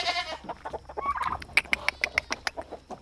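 An aggressive farm rooster clucks in a rapid run of short, sharp, close calls, evenly paced and rising in intensity, with no talk over it.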